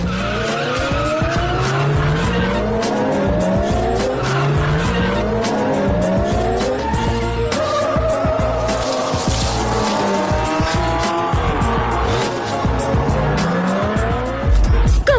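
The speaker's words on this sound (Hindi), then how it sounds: "कमाल है, टैक्सी ने ईवी जोन्स को ओवरटेक करके इस रेस को जीत लिया है।" Racing cars roar and their tyres screech continuously through a loud, dense race scene in a drama, with engines revving and squealing rubber overlapping throughout and no talking.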